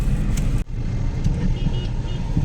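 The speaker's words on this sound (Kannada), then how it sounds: "ಗಾಡಿ ಇದೆ ಹಿಂದಿಂದ" Vehicle coming up from behind on a rural road near the Baje dam, its engine and tyre noise a steady, close rumble, briefly cut by a sharp drop before continuing.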